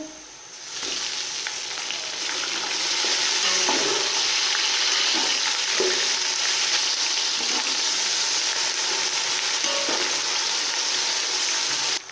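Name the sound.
ginger garlic paste frying in pan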